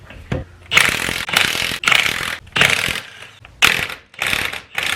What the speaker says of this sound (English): I'm going to be using an impact